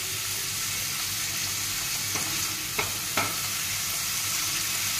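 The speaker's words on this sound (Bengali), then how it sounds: "মশলাটা এবার কষিয়ে নেব।" Onion-garlic spice paste sizzles steadily in a pan, a close frying hiss with a few scrapes and taps of the spatula against the pan.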